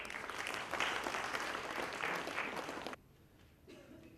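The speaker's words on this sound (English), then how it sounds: "Big round of applause." An audience at a seminar's valedictory session gives a full round of applause, dense and steady clapping that cuts off abruptly near the end, leaving a quiet room with faint residual sound.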